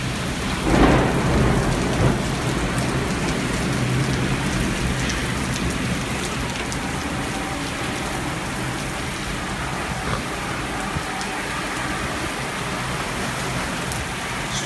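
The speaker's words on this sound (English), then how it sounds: "Storm is relentless." Severe thunderstorm with heavy rain pounding surfaces around noon in Indianapolis, a steady dense roar of downpour throughout with a rumble of thunder near the start, no voices.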